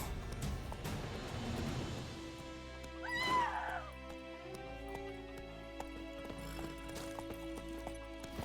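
Witcher 3 Wild Hunt horse Roach galloping, with rhythmic hoofbeats thudding close and loud, then a sharp whinny rising over them before the pace eases under soft background music.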